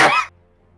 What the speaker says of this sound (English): I was literally trying to say something and then I got hit with a cough fit.